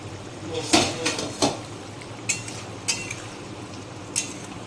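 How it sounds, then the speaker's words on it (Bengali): A lid is lifted off a pot of cooking tilapia fish curry, giving a few sharp metallic clinks and clatters of pot and utensil, followed by softer taps at intervals. "তো এবার আমি মাছটা ঢাকনা খুলে দেখবো।"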